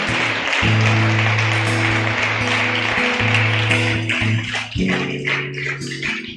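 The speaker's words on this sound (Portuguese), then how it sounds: "Palmas pela vida do pastor" A church congregation claps for their pastor during an evening service, a dense wash of applause running the whole time over sustained keyboard or organ chords.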